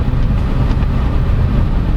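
Inside the cabin of a 2022 Mazda BT-50 3.0L pickup, a steady low engine drone hums under faint road noise, muted and even, with no talk.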